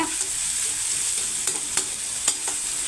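Small onions sauté in a pan on a stove with a close, steady sizzle, and a few sharp clinks of a stirring spoon sound against the pan.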